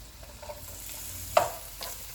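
Quiet sizzling of chopped garlic frying in a pan, with a soft clink or two of a utensil stirring partway through.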